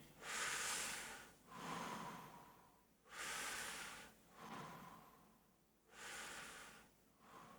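People in a guided breathing session draw deep breaths through the mouth, with about five long airy inhales and exhales rising and falling in slow rhythm, close and soft with no talking.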